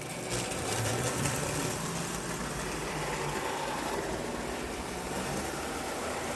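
A model train's motor runs quietly and steadily throughout, a soft continuous mechanical hum with a faint whir, no voices, nothing standing out against the low, even background.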